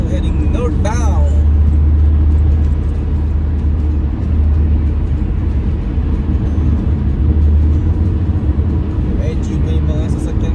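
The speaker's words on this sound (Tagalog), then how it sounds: "entering the freeway again. Nasa freeway 5 na po tayo, heading northbound" Car cruising northbound on Freeway 5 during the holiday, a steady low engine and road rumble filling the cabin throughout, loud and continuous with brief louder swells.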